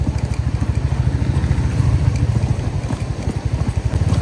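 A high-cc motorcycle on an off-road mountain track in North Sikkim, its engine thumping in a steady, dense low pulse close by for the whole stretch, with no talk over it.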